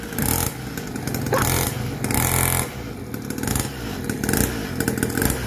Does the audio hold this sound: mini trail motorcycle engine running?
yes